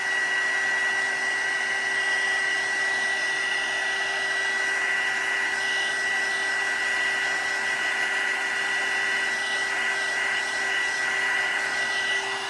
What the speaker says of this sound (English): I'm going to go ahead real fast and hit it with my heat tool just to help it dry a little bit